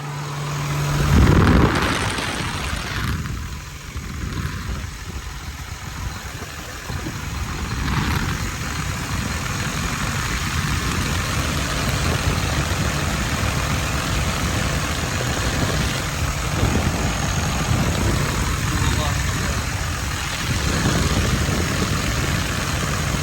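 A John Deere 6175R tractor's 6.8-liter diesel engine idles steadily and loudly nearby, a low rumbling drone that holds constant after a brief knock at the start.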